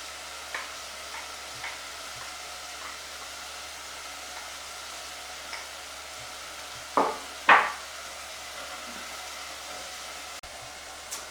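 Meat slowly browning in a pan for Sri Lankan pancake rolls, a steady soft frying hiss over a low hum, broken by a couple of brief louder scrapes or clatters midway.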